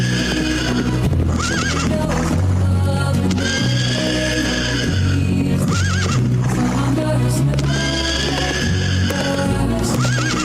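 Horses at racing stables in Ghana neigh and whinny repeatedly, several loud calls rising over a steady bed of stable noise with occasional hoof clops, close and continuous with no talk.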